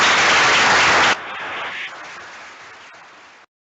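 Audience applause for court staff at a law moot prize-giving, a dense burst of clapping that cuts off abruptly after about a second, leaving a quieter hall-like wash that fades out.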